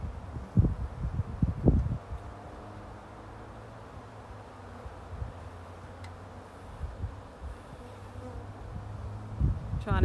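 Dense buzzing of honeybees and drones swarming over an open hive in early spring, a continuous close hum with occasional louder passes near the microphone.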